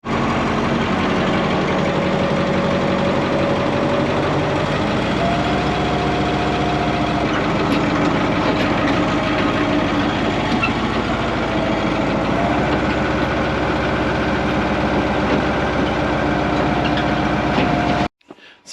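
A belly scraper earth mover's heavy diesel engine runs loud and steady, a deep low rumble with knocking idle that holds throughout before cutting off abruptly at the end.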